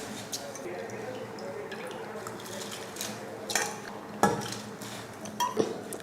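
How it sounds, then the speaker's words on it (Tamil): Rice tipped into a pot of boiling salted, oiled water for chicken fried rice, a soft rushing pour with a few clanks of metal utensils against the pot, bubbling underneath. "இப்போ இதில் அரிசி சேர்த்துக்கலாம்."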